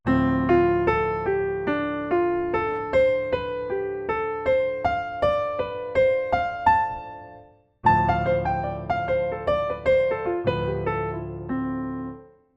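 A plucked or struck keyboard-like instrument plays a bright triad-pair melody, two notes of one triad and three of the other, overlapping chord tones in a steady rhythm, pausing briefly before resuming; no voices.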